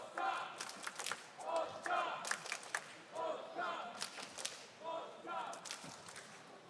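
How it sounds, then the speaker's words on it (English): Polish supporters at the Rubik's WCA World Championship 2023 in Incheon cheer and chant from a distance in rhythmic surges, with claps and shouts mixed in and a commentator talking over the crowd. "You might be able to hear the Polish crowd here."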